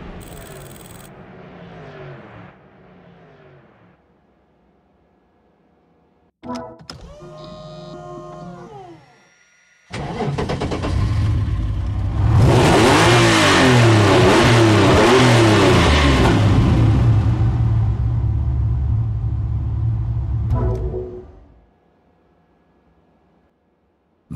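A 2005 Mercedes-Benz SLR McLaren in Forza Motorsport 4 cranks over with a whirring starter, catches and bursts into a loud, sustained rev that holds for several seconds before dropping back to a low idle.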